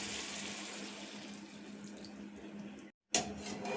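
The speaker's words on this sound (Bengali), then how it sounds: "জলটা দিয়ে দিচ্ছি।" Water pours steadily from a container into a mixer grinder jar while a Bengali fish curry of katla with sesame cooks, a continuous close rushing stream that cuts off abruptly near the end, then resumes briefly.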